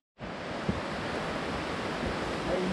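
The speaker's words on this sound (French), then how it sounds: "c'est bien le torrent sur notre gauche" A mountain torrent beside a trail gives a steady, broad rushing wash of water that starts suddenly and continues evenly for a couple of seconds.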